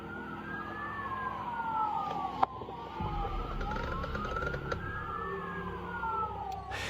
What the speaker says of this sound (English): police cars sped by with their sirens blaring